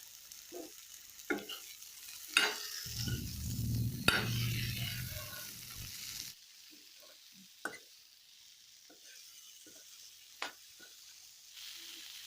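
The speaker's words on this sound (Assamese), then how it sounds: "এয়া চব ভেন্দিখিনি অলপ ফ্ৰাই হৈ গৈছে।" Okra frying in a pan while being stirred, with a soft sizzle that swells for a few seconds, then scattered clicks and scrapes of a utensil against the pan in a quiet kitchen.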